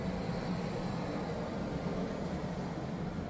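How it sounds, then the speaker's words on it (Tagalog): A simulated P-38 Lightning Allison V1710 engine drones through a museum speaker as a steady, dense rumble with no breaks. "Kung maririnig niyo sa background ko yung tunog ng makina."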